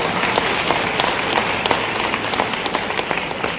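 An audience claps together at a university ceremony in Bhopal, a dense, steady patter of many hands that fills the whole stretch at an even level with no talk.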